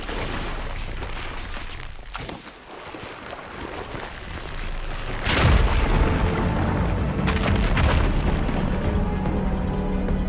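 A fire gleam is set off to blow apart rubble in Horizon Forbidden West, a loud booming blast that rolls into a long, heavy rumble over steady game ambience.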